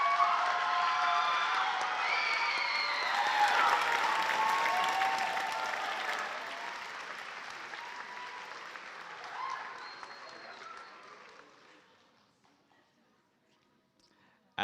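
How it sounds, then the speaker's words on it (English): Graduates and their audience applaud at a nursing school pinning ceremony, with a loud, full burst of clapping and some cheers and crowd voices that fades gradually to near silence. "Please take a moment to give yourselves a round of applause."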